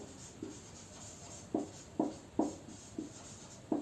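Pen or pencil writing on paper during a class 6 maths lesson, a series of short scratchy strokes in an irregular rhythm, fairly close and quiet, with no talking.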